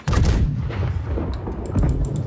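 Loud booming ship cannon blasts in the video game Blackwake roar one after another, with heavy low rumble and a crackling sustained roar, no talking.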